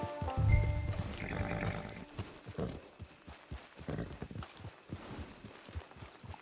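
A horse walks near a camp out on the range, its hooves clip-clopping in an uneven, plodding rhythm, moderately close, with a brief low thump near the start.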